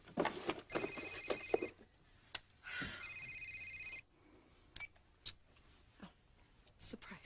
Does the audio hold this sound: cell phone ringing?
yes